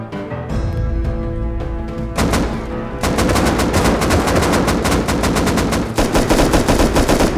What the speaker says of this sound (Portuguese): Um monte de tiro.